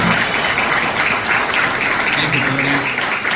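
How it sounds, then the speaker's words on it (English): A seated audience applauds steadily at a ceremony honoring WWII veterans on Pearl Harbor Day, dense, even clapping throughout with a faint voice underneath. "give a round of applause again"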